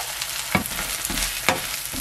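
A scallion pancake made with egg, pepper and salt fries in a pan with a steady sizzle, broken by a few sharp scraping or turning sounds from a utensil.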